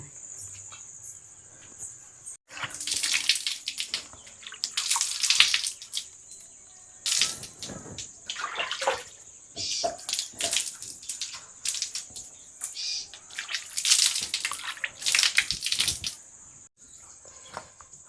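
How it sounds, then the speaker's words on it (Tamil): Water splashes and pours in repeated bursts over metal vessels, with clattering between pours and a steady high-pitched insect drone in the background. "இந்த ஏனத்தெல்லாம் தண்ணி ஊற்றி போட்டு"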